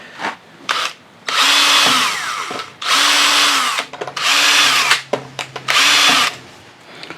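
A power drill drives screws into the wooden cabinet of a 1936 Bush battery radio, with four loud, close whirring bursts of about a second each, separated by short pauses and faint handling knocks.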